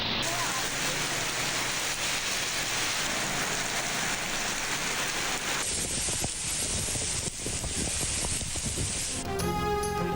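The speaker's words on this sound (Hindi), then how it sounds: "लाहौर में वक्फे से बादल बरसने का सिलसिला जारी।" Steady, heavy rain falls during a monsoon downpour in Lahore, making a dense, continuous hiss that stays loud throughout with no voices.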